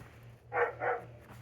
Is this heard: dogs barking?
yes